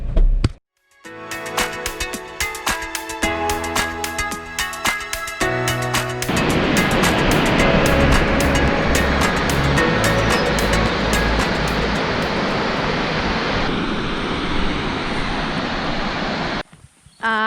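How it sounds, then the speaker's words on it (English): Australia's highest single-drop waterfall sends up a loud, steady roar of rushing, crashing water that builds in and holds for many seconds, with faint musical tones at the start and no talk. "we just stumbled across the most epic waterfall"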